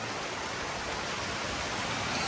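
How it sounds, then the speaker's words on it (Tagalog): Steady, dense rain hissing down on a street in Umiray, Dingalan, Aurora, a continuous close wash of sound with no talking. "Sarap maligo sa ulan"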